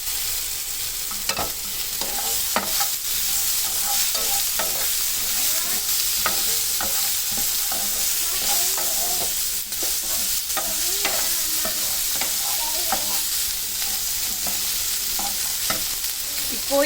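Chopped chayote sautés in a pan for a chutney, a constant close sizzle broken by scraping clicks and knocks as a spoon stirs the pieces, with no talking over it.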